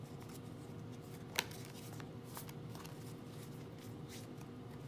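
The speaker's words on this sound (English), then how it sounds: "I tend to just shuffle this way." Soft, steady riffling of a tarot card deck being shuffled by hand, a quiet continuous papery rustle with a couple of sharper snaps, close up and without speech.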